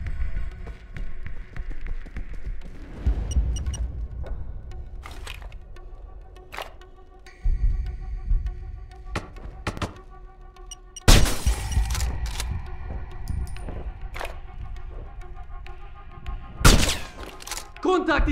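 Gunfire in the Sniper Ghost Warrior 2 video game: repeated sharp loud shots and bursts scattered across the scene, some isolated cracks and a heavy volley midway, with game ambience and occasional voices underneath.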